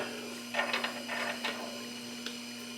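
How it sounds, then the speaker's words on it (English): An outer bearing race goes into a 1955 Buick brake drum with a few close metallic clicks and scraping contacts in a short burst, then a single sharp tick after a pause, all fairly quiet with no talk. "I'm going to put my outer race in."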